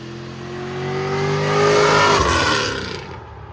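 An LS3-swapped C5 Chevy Corvette with Valvetronic exhaust valves open roars past, its engine note swelling as it nears, peaking, then dropping in pitch and fading as it pulls away.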